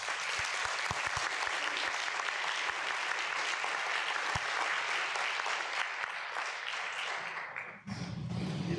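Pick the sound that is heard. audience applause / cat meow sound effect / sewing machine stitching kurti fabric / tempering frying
audience applause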